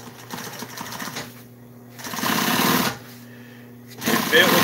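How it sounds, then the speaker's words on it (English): An upholstery sewing machine stitches strapping for a tractor seat, running in two loud rapid bursts separated by quieter stretches where someone talks over a low motor hum. "I was sewing some strapping together,"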